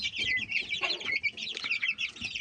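A mixed flock of decorative breed chickens and roosters clucks and chatters continuously at close range, overlapping calls forming a busy, fairly loud farmyard texture with no talking.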